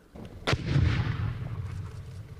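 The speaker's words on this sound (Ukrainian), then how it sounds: "Вибух чималий розльот осколків гранати на кілька десятків метрів" A single sharp blast of a grenade dropped from a drone at a distance, followed by a long rolling rumble that slowly fades.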